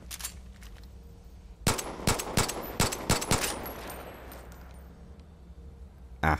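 Gunfire in the video game Far Cry 5: a burst of about six sharp, loud shots in quick succession after a quiet stretch, each trailing into a ringing echo, then one last shot at the very end, with no talking.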